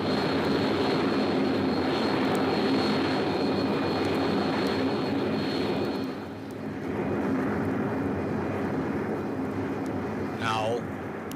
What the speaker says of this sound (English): You hear the roar after the bombers have passed over your head.